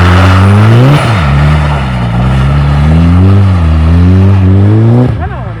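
A heavy, fully equipped Finnish family car races on the Kuremaa ice track, its engine loud and close, pitch climbing and dipping through repeated gear changes and throttle shifts, with a voice speaking over it.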